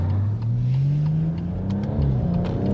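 A tuned 730 bhp BMW M140i accelerates hard along a short straight, its engine note climbing steadily and loud, heard close from inside the car with no talking over it.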